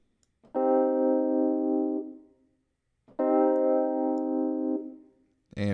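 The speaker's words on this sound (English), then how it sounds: "And reverb." Two sustained chords on a rare 1970s 54-key electric piano, each ringing out with a soft reverberant tail before silence, with a third chord starting at the very end.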